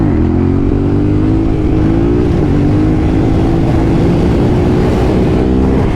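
Yamaha Tenere 700 motorcycle ridden in second and third gear, a loud close engine drone that climbs steadily in pitch under throttle, with a brief dip at a shift before rising again, plus heavy wind rush.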